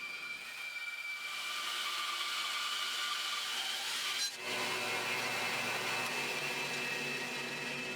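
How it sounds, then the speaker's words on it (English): A bandsaw resaws a wooden board in half, a steady whirring hiss as the blade cuts through the wood. Near the midpoint it briefly dips, then continues with a deeper, rougher tone, close and loud. "I could now resaw the board in half over at the bandsaw"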